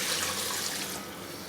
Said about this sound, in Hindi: इसके अंदर मैं पानी ऐड करती हूँ